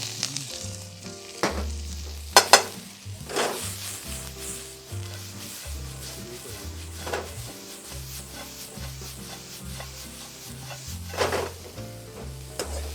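Onion, garlic and carrot stir-frying in a wok, an ongoing sizzle with irregular clanks and scrapes of a utensil against the metal, a few loud sharp hits.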